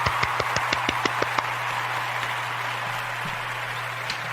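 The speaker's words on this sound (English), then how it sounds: "Let's give him a round of applause." A few podcast hosts clapping, a quick run of sharp, close hand claps for about a second and a half before they stop, leaving a low steady hum and room noise.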